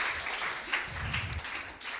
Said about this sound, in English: I need to pause for claps.